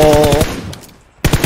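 Rapid bursts of automatic gunfire in a first-person shooter video game, loud and near, with a short gap before a fresh burst breaks out.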